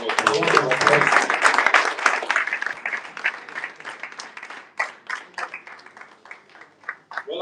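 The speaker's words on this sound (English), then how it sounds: "Please give a big round of applause." A big round of audience applause at a live event, loud dense clapping that gradually thins into scattered individual claps, with voices and cheering mixed in early on.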